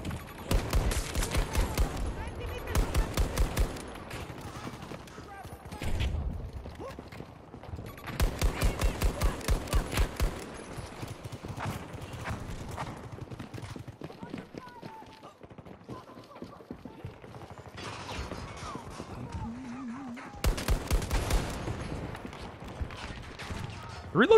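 In Battlefield 2042 a DM7 rifle fires in rapid bursts of crisp shots, broken by pauses and reload sounds, with other game noise and someone talking intermittently over it.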